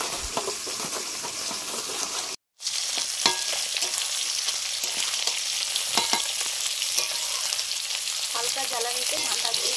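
Salted, turmeric-rubbed fish heads frying in oil in a pan, a loud continuous sizzle with stirring clinks and scrapes, briefly cut out once early on, close and without speech.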